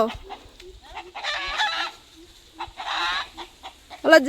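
Chickens cluck close by in a leafy backyard, giving several bursts of throaty, rising calls separated by short pauses. A sharp squawk sounds at the very end, and a voice is faintly heard in the background.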